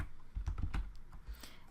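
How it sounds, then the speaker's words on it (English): Names being typed on a computer keyboard for an Outlook meeting invite, a quick run of soft, close key taps with uneven rhythm and no talking. "So I'm going to start typing the individuals' names"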